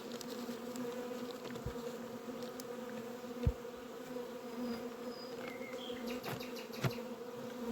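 A dense cloud of honeybees hums around a hive in spring, with young bees out on orientation flights. The steady, soft drone carries on throughout, broken by a few faint clicks and passing wingbeats.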